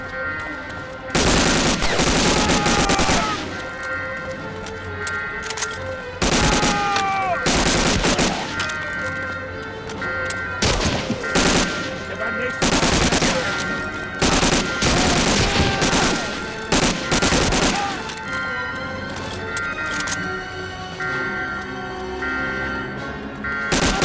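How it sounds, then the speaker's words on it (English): Automatic gunfire from the Medal of Honor video game, rattling in loud, sustained bursts that start and stop repeatedly over a steady tonal game backdrop. "I'm blasting crap loads of bullets into you guys."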